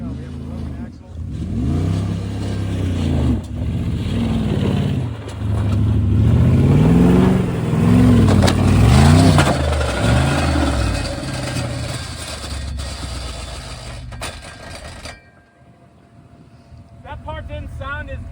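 A G-Wagon SUV engine with a broken axle revs hard and labors through rising and falling pitches, loud and close, then cuts out and leaves a quieter pause with faint clicks.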